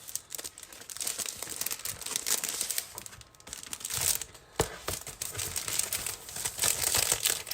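Crinkly foiled designer paper is handled close up, giving continuous rustling and crackling with sharper crunches throughout and no talking.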